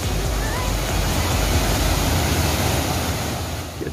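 Rushing water from the São Jorge waterfall on a trail near rocky gorges, a steady broadband roar that stays loud and unbroken throughout, with wind mixed in and no talking.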